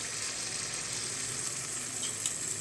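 Jackfruit unniyappam batter frying in coconut oil in an appam pan, a steady soft sizzle and crackle that continues evenly throughout with no voices.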